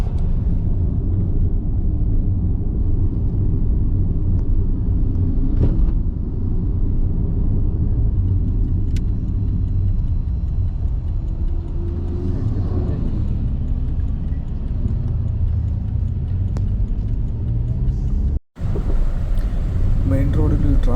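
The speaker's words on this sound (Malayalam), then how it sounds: "ഇപ്പോൾ നമ്മളിപ്പോൾ കോക്ടോബ് ട്രാഫിക്കിൽ പോയിക്കൊണ്ടിരിക്കുകയാണ്" Steady low road rumble from inside a car crawling through heavy traffic on the way to Kok Tobe in Almaty, Kazakhstan, continuous throughout with a brief dropout near the end.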